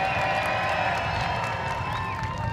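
A crowd of spectators at an outdoor supercar show cheers and whoops in a steady, sustained roar, moderately distant, with scattered claps and shouts mixed in.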